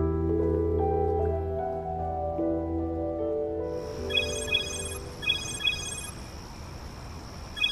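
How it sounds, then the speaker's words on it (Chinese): In a Chinese animated series, a video call ringtone sounds as a bright repeating electronic chime. It follows a low sustained musical tone and rings in short rhythmic pulses. "李耀和维尼娜夫妇的视频电话，您看。"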